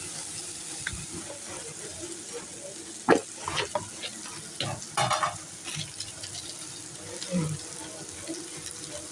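Dal and vegetables being stirred in a hot pan, with a steady low sizzle of frying and scattered scrapes and clinks of a spoon against the pan; no voices.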